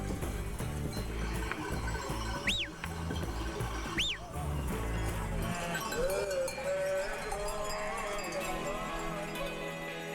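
A flock of sheep with bells moves through the hills near Asagonia, Greece, their bells clanking continuously and two rising bleats standing out over a dense, rustling, walking-paced din.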